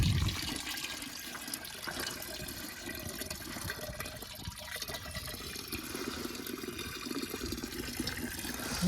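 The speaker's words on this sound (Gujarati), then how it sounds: "અને હવે ડબ્બામાં રેડી છું" Liquid pesticide mix for a tobacco field is poured steadily into a container, a continuous splashing water sound that runs close and fairly loud for the whole stretch with no talking.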